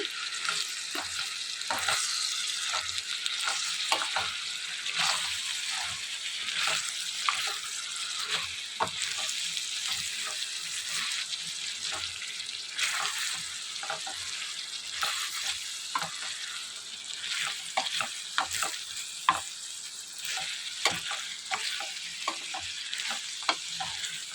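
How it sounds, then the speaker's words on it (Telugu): Brinjal pieces frying in a pan hiss with a steady sizzle, broken by frequent scraping stirs and clinks throughout, close and continuous. "వంకాయ ముక్కలు తొందరగా మగ్గుతాయండి"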